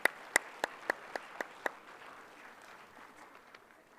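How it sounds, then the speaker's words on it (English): A few loud, separate claps open an orientation event audience's applause for faculty colleagues, then thin into a faint, scattered patter that trails away. "A huge round of applause for all my faculty colleagues"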